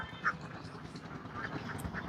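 Campbell ducks quack softly at a distance, a few short calls over a low, steady background hum.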